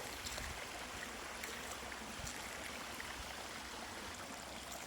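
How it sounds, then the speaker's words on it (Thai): Huai Chan Waterfall in Sisaket pours over rocks in a steady, dense roar that holds constant and close throughout, with no voices over it. "พาทุกท่านมาชม ความงามของน้ำตกนะครับ"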